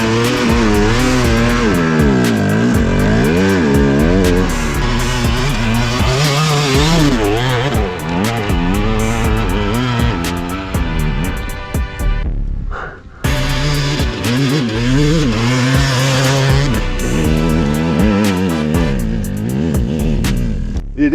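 A dirt motorcycle held at full throttle up a steep Wyoming hill climb: a loud, close, buzzing engine wail that rises and falls with revs, briefly cutting out near the middle before roaring back, with no talking.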